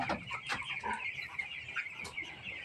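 Broiler chickens being raised cluck in a steady flock chorus, many birds overlapping at close range with repeated short calls and no talk.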